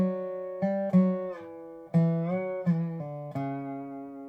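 Dobro (resophonic slide guitar) picks the plain melody of the fiddle tune Whiskey Before Breakfast in A, a simple line of single plucked and slid notes ringing alone, close and clear, ending on a held note.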